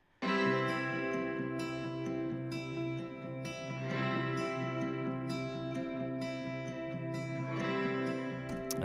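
Acoustic guitars drenched in delay and spring reverb in a beat, strummed chords blending into a lush, continuous wash with softer bursts of attack every few seconds, sustained and fairly quiet, without voices.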